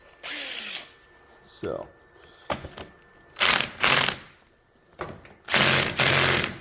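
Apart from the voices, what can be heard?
cordless impact wrench losing torque on drive shaft bolts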